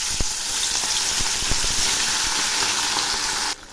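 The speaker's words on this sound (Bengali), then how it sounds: "এখন আমি মাছগুলো একে একে ছেড়ে দিচ্ছি।" Pieces of rohu fish sizzle as they drop one by one into hot oil that has been salted, giving a loud continuous crackle with sharp pops. The sound drops off abruptly near the end.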